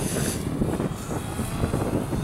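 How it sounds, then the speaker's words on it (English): Outdoors, a gust of wind buffets the microphone while a DJI Phantom 2 Vision Plus drone flies, making a steady, loud rushing roar with no speech. "It's a little windy, so I just gotta watch the Phantom. Gust of wind."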